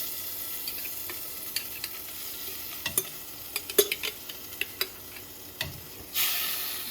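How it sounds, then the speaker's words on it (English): A jar of sauerkraut sizzling in a pan with bacon for Hungarian beef goulash, a steady crackling hiss dotted with small pops and utensil clicks, ending in a short louder burst of sizzle; nobody speaks. "then you want to throw in your whole jar of sauerkraut."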